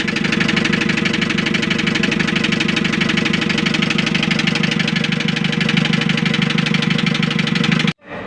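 A Hyundai H100 van engine idles with a hard knock, giving a loud, steady rapid metallic ticking over the rumble before it cuts off abruptly near the end.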